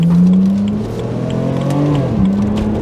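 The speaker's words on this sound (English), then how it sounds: "While the engine doesn't sound quite as exotic and doesn't make anywhere near as much torque, it's still fun." An E89 BMW Z4 sDrive23i engine revs loudly and close by, holding a strong droning note before the pitch dips and then climbs again as the revs rise.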